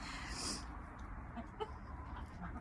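Chickens dust bathing in loose dirt outside their coop, with soft scratching and low clucks close by over a quiet outdoor background, and a brief bright rustle near the start.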